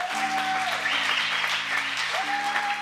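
Church congregation applauding the pastor, a dense, sustained wash of many hands clapping at steady loudness with a held organ or keyboard chord beneath.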